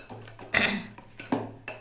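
Banana cake batter being mixed in a bowl produces a few sharp clinks and scrapes of a utensil against the bowl, close and separated by short quiet gaps.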